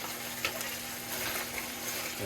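Moose meat frying in a pan gives a steady, close sizzle and spatter with a few brief stirring scrapes, continuous across the short stretch, with no talk.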